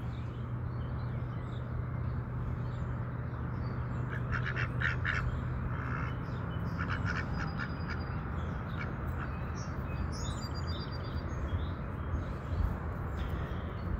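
Ducks quacking back and forth near water, repeated bursts of calls over a steady broadband outdoor hiss, moderately distant with no talking.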